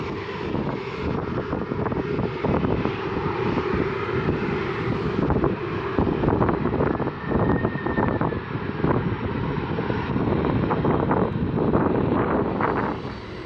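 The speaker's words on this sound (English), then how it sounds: "my aircraft came in for landing" A Condor Boeing 767 airliner, delivered in 1999, approaches to land, its steady broadband engine roar and airflow rumble sustained throughout, with some wind buffeting the microphone.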